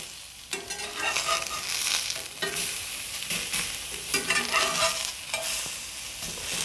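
Salted fish fries in a non-stick pan right after being flipped, a loud, close, continuous sizzle that surges and dips with stirring and scraping, no talk.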